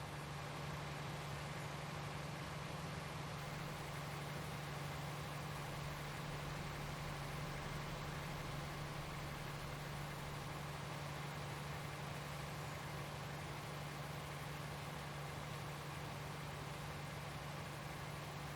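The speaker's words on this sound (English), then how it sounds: "you drive that tractor very nicely" A tractor engine in the Farming Simulator 19 video game drones steadily at a constant low pitch, a continuous even hum with no talk over it.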